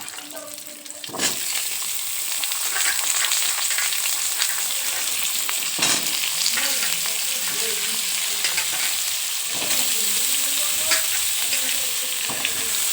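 Bori lentil dumplings fry in hot oil with five-spice seeds, a loud dense sizzle with spattering crackle, punctuated by a few sharp stirring scrapes and clatters of the spoon in the pan.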